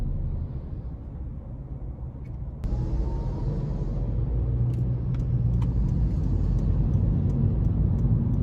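A 2022 Honda Civic Sport sedan with a 2.0 engine cruises along, its steady low road and engine rumble filling the cabin, with a few faint clicks and ticks over the drone.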